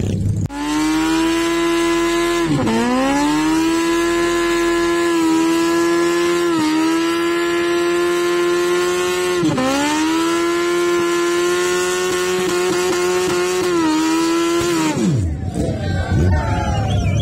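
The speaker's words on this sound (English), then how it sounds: "they're just gonna burn some tire." A car burns rubber in a burnout at the Cold Kiwi Rally, its engine held at a loud sustained high rev with a couple of brief dips before it drops off at the end.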